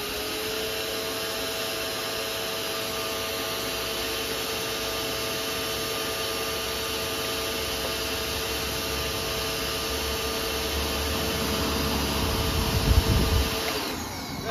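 Nilfisk pressure washer fitted with a rotary brush runs steadily while cleaning a car, a constant close-up spray and motor drone with no pauses, turning rougher near the end.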